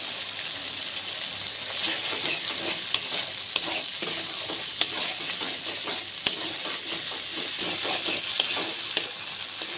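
Spices with turmeric and salt frying in oil for a dudh potol curry, an even, close sizzle with a spatula scraping and stirring, punctuated by several sharp taps against the pan.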